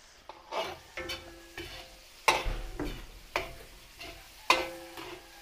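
Onions added to a pan and sautéed for a Filipino birthday feast: a steady sizzle broken by repeated sharp scraping and tapping strokes of a spatula against the pan, several distinct hits at irregular intervals, close and without talk.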